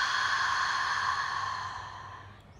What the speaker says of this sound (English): Last one, biggest breath yet of your day. Exhale, let it all go.